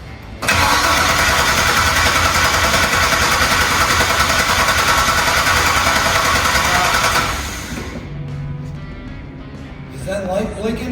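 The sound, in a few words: 1957 Chevy engine cranking and idling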